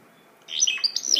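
A short burst of bright, twittering birdsong that begins after a brief silence, with quick warbling notes.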